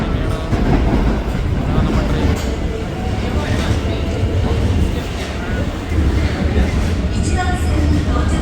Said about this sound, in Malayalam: നമ്മൾ ട്രെയിൻ വരുന്നുണ്ട്.